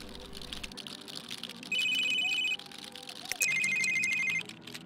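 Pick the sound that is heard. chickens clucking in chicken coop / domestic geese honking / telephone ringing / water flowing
telephone ringing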